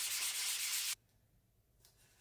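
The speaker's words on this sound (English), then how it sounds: "I then give the tube a final sanding using 320 grit sandpaper." Sandpaper of 320 grit rubs over a tube in a final sanding pass, a steady close hiss for about a second, then a pause and a faint brief scrape.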